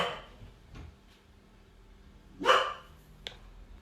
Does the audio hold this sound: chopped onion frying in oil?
no